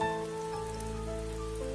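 Heavy rain shower pouring steadily on a surface, a dense continuous wash of drops at moderate level with no voices.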